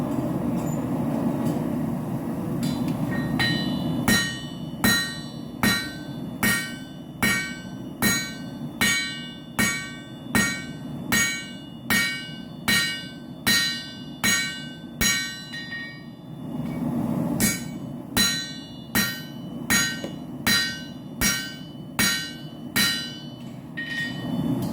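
Hammer forging a railroad spike into a tomahawk head, sharp ringing metal blows struck in steady, evenly spaced runs with a short pause midway, close and loud.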